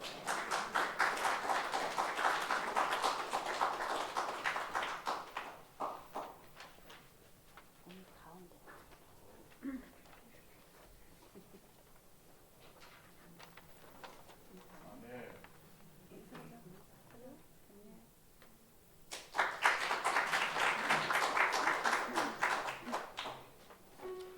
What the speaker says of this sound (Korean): 우리 박수로 맞이해 주십시오.